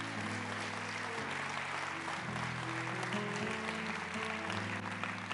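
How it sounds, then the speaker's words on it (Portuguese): A church congregation at a Carnival revival service claps loudly and continuously, with the dense applause running under sustained organ or keyboard chords that shift partway through. "Aplauda ao Senhor e dá um glória a Deus."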